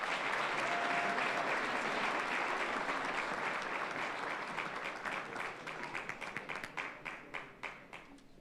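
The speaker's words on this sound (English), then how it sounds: "One more round of applause for the wrestling team." An audience at a school winter sports awards ceremony applauds the wrestling team, with dense, sustained clapping that thins into scattered individual claps and fades over the final few seconds.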